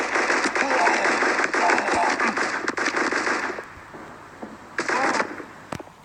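Explosive video game battle sounds, a grenade blast amid dense crackling gunfire and bangs, loud and continuous for several seconds before dropping, then a brief final burst of blasts.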